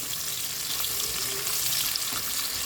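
Onion and garlic sautéing in a pan for chicken tinola with papaya, a steady close sizzle of frying with a bright hiss running evenly throughout and no voices.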